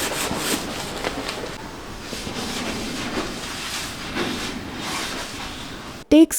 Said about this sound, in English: I've been using a cleaning solution called Cif Cleaning Cream for most of my kitchen scrubbing